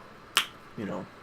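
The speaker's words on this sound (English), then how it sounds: "that was a bottle of water that I just opened" A plastic water bottle cracks open with one sharp snap of the cap. A short rustle of the plastic follows a moment later. The sounds are close and stand alone, with no talk over them.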